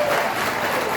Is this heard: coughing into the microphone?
no